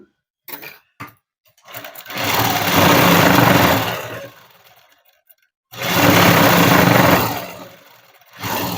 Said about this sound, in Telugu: ఈ క్లాత్ అనేది ఇలా పెట్టి కుట్టు వేసేసుకున్నాము.